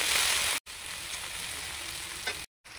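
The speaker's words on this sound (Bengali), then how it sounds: "তারপরে গরম তেলেতে পেঁয়াজ ছেড়ে দেবো।" Onions sizzle in hot oil in a wok, a steady bright frying hiss with a soft stir or two, broken by two brief cuts to silence.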